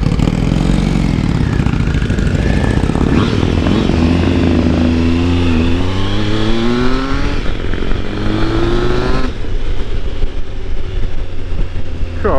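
A Triumph Tiger 955i motorcycle engine drones steadily while riding, its pitch rising and falling through gear changes, loud and continuous with wind noise.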